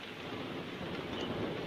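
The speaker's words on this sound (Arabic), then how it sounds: "هذا المطر في عصر يوم الثلاث" Rain falls in Wadi Tassa in Yafa, a soft, continuous hiss of drops that stays faint and even, with a light wind-like wash and no voices.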